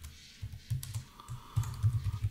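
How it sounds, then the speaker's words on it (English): Someone types on a computer keyboard, producing close, quiet clusters of rapid key clicks in an uneven rhythm. "if I type my welcome message here"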